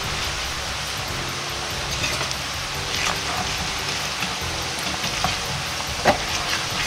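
Chili powder frying in oil for chili oil, a steady bubbling sizzle with sporadic sharp pops and crackles, continuous and moderately loud with no voices.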